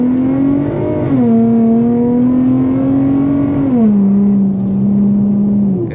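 An Infiniti G35 engine in manual mode revs up through upshifts, its steady drone dropping in pitch at each gear change, heard close and loud inside the car with no talk.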